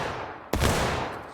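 A sudden musket volley erupts in the War of Rights video game, one sharp loud blast of several muskets firing together, trailing into a long rumbling echo.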